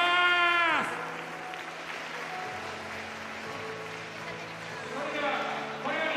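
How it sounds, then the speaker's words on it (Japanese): Crowd applause at a mall venue, AEON Mall Okayama, after a table tennis coach's interview, a broad moderate wash of clapping between stretches of a voice over a PA, swelling again near the end. "会場の皆さん、今一度大きな拍手をお願いいたします。"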